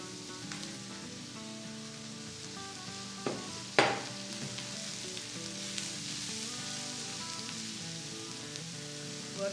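Chopped eggplant and zucchini sauté with onion in a pan, giving a soft, steady sizzle with a few clinks and scrapes of stirring, close by and quiet under some faint background tones.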